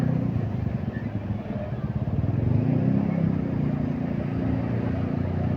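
Motorcycles ride through road traffic, a continuous close engine drone with rising revs midway and a rumbling, wind-buffeted ride noise, captured from a rider's phone.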